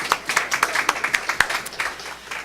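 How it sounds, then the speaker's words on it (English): A small group applauds a project team at a university ribbon-cutting unveiling, with a short burst of distinct, fairly close claps that thins out after about two seconds. "Let's give them a round of applause."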